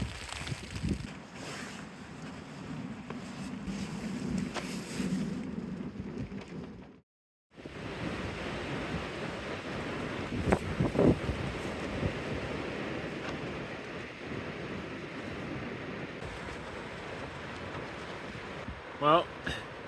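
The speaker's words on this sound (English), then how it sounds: "Well, the wind came back." Winter wind gusts roar around a tarp campsite in snow and sleet, a broad rushing noise that drops out briefly and then returns strong, with fabric buffeting and a few louder bursts near the end.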